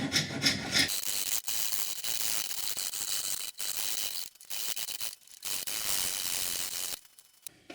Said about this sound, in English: Be a bit generous and do the rest with the rasp.